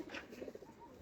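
A pigeon on a rooftop gives a soft, brief coo, faint and somewhat distant, with no talking.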